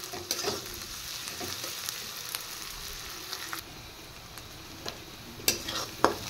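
Onion, ginger and green chilli stir-fried together in a pan, a soft steady sizzle broken by repeated scraping and clinking stirs of the spatula, close and fairly quiet with no talking.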